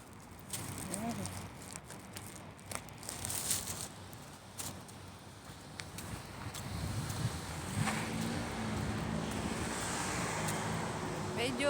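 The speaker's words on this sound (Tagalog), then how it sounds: "Medyo mahangin po dito kaya" Gusty evening wind buffets the microphone in rough, uneven rumbles, with traffic noise in the background and a voice speaking at times.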